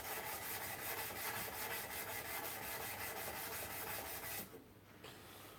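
Hand sanding of a knife blade produces a steady, rhythmic back-and-forth rasp at close range, strokes evenly paced and fairly loud before stopping abruptly near the end, no voices present.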